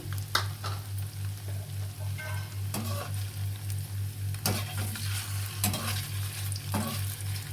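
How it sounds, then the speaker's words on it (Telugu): Chicken keema vada ingredients fry over low heat in a pan, a soft continuous sizzle with a steady low hum beneath and several crisp stirring scrapes spaced through, no talking. "ఇవి కూడా మంచి కలర్ వచ్చే వరకు ఫ్రై చేసుకుందాం"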